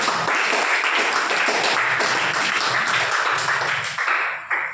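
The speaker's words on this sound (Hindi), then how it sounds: "आ जाओ, लड़े के लिए ताली हो जाए।" A group of children applauding a boy in a classroom, dense continuous clapping at close range that holds steady for several seconds before tapering off, with no talk over it.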